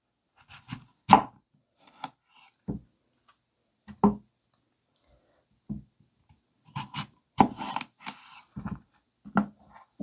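A 3.5-inch paring knife from a budget kitchen knife set cuts through an apple on a board, giving scattered sharp taps and crisp slicing crunches in irregular bursts, close and fairly quiet, with no talking.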